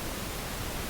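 Steady, even hiss of broadband noise with a soft, full low end, continuous and unchanging throughout: the balanced noise background sound in macOS Ventura.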